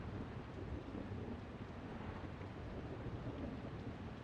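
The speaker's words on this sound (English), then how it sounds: "Well, I'm soaked. Quite the downpour." A rainstorm with thunder in the video game Tactics Ogre Reborn, a dense, steady downpour with a low rumble underneath, faint and unbroken.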